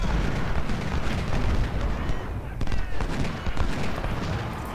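Guns firing in an American Civil War battle in Ultimate General: Civil War, a Nansemond River engagement: a steady rumble of artillery and musket volleys with sharp reports cutting through a dense, continuous din.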